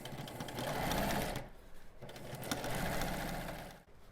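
A sewing machine stitching a quilt seam, its motor whirring in a fast, even rhythm of needle strokes, close and continuous, with a brief pause and a short stop near the end, and no voices.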